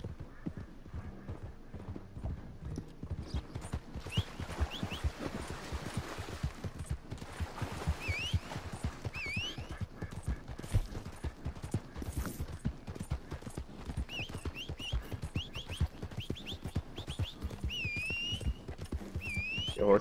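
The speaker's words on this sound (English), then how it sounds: "Your horse coming? Yeah, he's coming." Horse hooves clip-clop steadily in the Red Dead Redemption 2 open world, growing as the animal approaches, with short whistles and faint gunfire-like pops scattered over the busy game soundscape.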